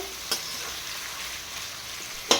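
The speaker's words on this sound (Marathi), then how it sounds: "छान व्यवस्थित तेलात परतून घ्यायचा आहे बटाटा मऊसर होईपर्यंत" Potato pieces fry in hot oil in a home kitchen, a continuous soft sizzling hiss with two brief clinks of a stirring utensil against the pan.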